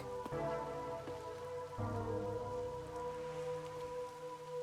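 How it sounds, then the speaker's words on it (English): Steady rain falling in the video game Master Detective Archives Rain Code, a continuous soft patter with a few sharper drops and some tonal game music underneath. "Until recently, I despised this rain."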